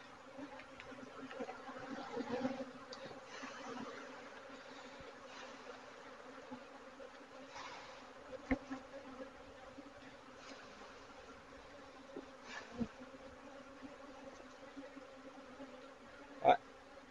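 Honey bees around a hive that has probably swarmed, a faint continuous buzzing drone with brief louder passes as individual bees fly close, quiet and steady over a long stretch.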